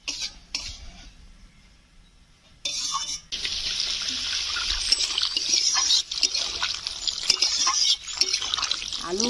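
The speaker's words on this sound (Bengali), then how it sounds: "এবার আমি উপর থেকে জল দিয়ে দেবো।" Water is poured from above into a pan of sautéed vegetables (potato and ivy gourd) for a light fish curry. A steady, fairly loud rushing splash begins partway through and continues to the end after a quieter stretch.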